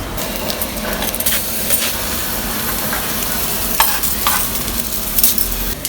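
Mustard oil heats in a pan for tempering, giving a steady, close, continuous sizzle and crackle with a few sharper pops throughout, no voices over it.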